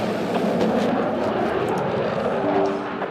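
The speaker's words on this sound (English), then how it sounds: "We have eyes on an enemy jet in your area." Enemy jet aircraft in a military shooter video game passing overhead, a steady loud roaring engine wash that holds throughout, with a faint rising tonal whine near the end.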